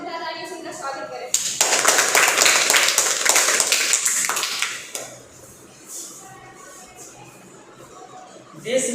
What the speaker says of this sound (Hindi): कृपया जोरदार तालियों से उनका स्वागत करें